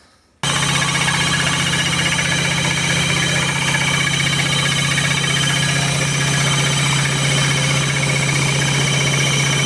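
Minsk motorcycle engine running loud and close, a constant throbbing drone with knocking undertones that holds steady throughout after an abrupt start, no voices.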